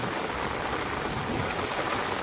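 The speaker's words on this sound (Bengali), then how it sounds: "তো সত্যিই বৃষ্টি হলো।" Steady rain pours down in a Sundarban village, a dense, even hiss of drops on surfaces with no pauses and no voices.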